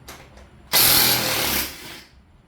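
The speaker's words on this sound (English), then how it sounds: "we're going to go ahead and use the Torx bit and take these 3 screws out" Power driver with a Torx bit backing a screw out of a Harley Touring fairing: a single loud, close whirring burst of about a second that tapers off, after faint clicks.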